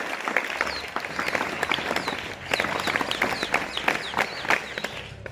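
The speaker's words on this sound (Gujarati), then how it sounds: "તો એમને પણ આપણે 7 તાળીથી વધાવીશું" A school audience at a high school Gita distribution ceremony claps to welcome a former student guest, with steady, dense applause from a nearby crowd lasting a few seconds.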